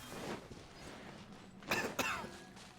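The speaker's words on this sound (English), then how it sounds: "Now you're coughing." A person on a livestream gives two short, quiet coughs in quick succession against a faint, steady background.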